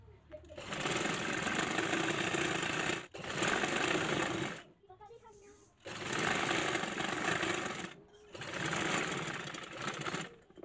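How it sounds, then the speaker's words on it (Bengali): Sewing machine stitching a skirt waistband onto a child's skirt, running in four long steady bursts with short pauses between them, close and loud, with a voice talking under the machine. "এখানে আমি সেলাই করে দেব"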